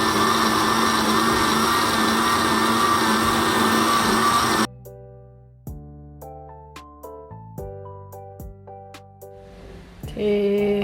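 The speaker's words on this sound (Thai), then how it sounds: "นำพริก หอมแดง กระเทียม กระชาย ไปปั่นรวมกันนะคะ" A blender whirs loudly and steadily for a few seconds blending chili, shallot, garlic and fingerroot, then cuts off, followed by a sequence of musical tones.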